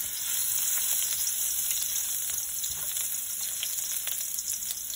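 Ginger sizzles steadily in hot oil in a pan for a crab curry, a dense, even frying hiss with faint stirring scrapes throughout and no voices.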